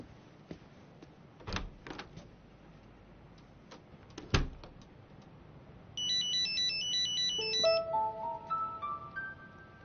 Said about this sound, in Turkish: Nedim Bey'in telefonu